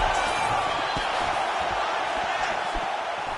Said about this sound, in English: And you hear the crowd react every time they come together